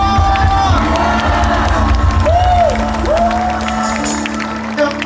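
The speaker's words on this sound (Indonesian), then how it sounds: "Semua sorakan haleluya." Worshippers at a large revival service in a sports hall cheer and shout hallelujah, a loud sustained roar of voices with whoops rising over a band's steady backing, the crowd filling the whole stretch.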